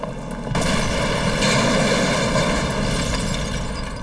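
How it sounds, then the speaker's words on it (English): Explosions rocking Manhattan, New York City, just after midnight, rendered as a documentary sound effect: after a brief quiet start, a loud sustained broadband roar and rumble erupts and swells again, filling the rest of the moment. "5 explosions rock Manhattan."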